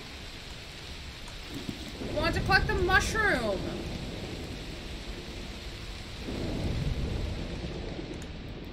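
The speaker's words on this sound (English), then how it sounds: "Oh, I didn't want a storm." Thunderstorm in a video game, with rolling thunder rumbling twice over a steady rain and wind bed, the first roll loud and crackling, the second lower and longer; a person talks briefly over it.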